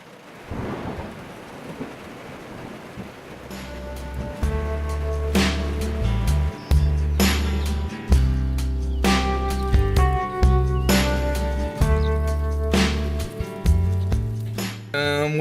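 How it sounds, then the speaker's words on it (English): Heavy overnight downpour pours down as a dense hiss, with loud rumbles and cracks of thunder breaking through and a repeated low booming throughout. "It's been raining like crazy since last night, and all through the night it's been downpouring"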